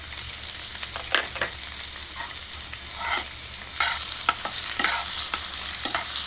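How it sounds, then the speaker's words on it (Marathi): Steady sizzling from pineapple pieces being sautéed in a hot pan for sheera, with scattered sharp scrapes and stirring clatters from a spoon throughout, close and fairly loud. "तर यामध्ये आपण पायनॅपल तुकडे टाकून घेऊया।"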